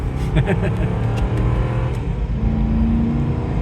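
Mercedes SL500 R129 V8 accelerating in first gear in sport mode on a country road, a steady growling engine note rising in pitch from inside the car, with a voice speaking over it.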